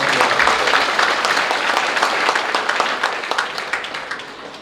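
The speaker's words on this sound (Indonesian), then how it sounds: "Tepuk tangan untuk kita semua." Audience applause at a high school graduation ceremony, dense continuous clapping from a large crowd that holds steady, then thins and fades toward the end.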